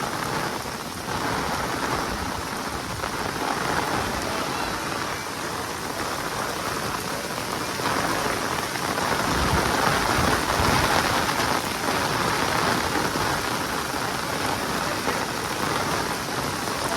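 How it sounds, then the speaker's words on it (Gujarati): Heavy rain pours steadily over houses in a Keshod housing society, a dense unbroken hiss that swells slightly midway, with no voices. "કન્ટિન્યુ હજી વરસાદ ચાલુ જ છે"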